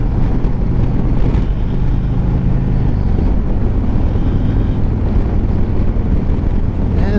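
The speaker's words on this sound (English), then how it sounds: "Now we're heading into the wind." Loud, continuous wind buffeting roars over the microphone while riding a 2022 Harley-Davidson Road Glide Special into a headwind, a dense low rumble of rushing air and engine drone with no letup.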